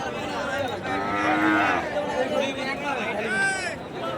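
Sahiwal cattle at a crowded border-area cattle market, with drawn-out moos rising over a steady babble of voices and bargaining talk nearby.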